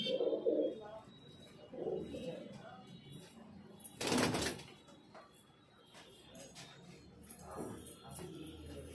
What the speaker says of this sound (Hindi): ये भी बॉर्डर पर का कबूतर है।